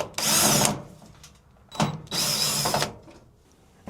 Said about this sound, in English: So I'm going to undo these hex nuts right now.